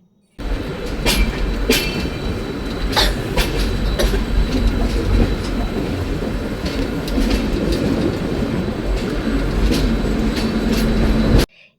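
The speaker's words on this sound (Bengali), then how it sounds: "এই ট্রেনটা হলো জগন্নাথ এক্সপ্রেস ট্রেন।" Jagannath Express train arriving at Puri station platform in early dawn light: a loud, steady rail rumble with sharp wheel clacks recurring throughout, and no voices.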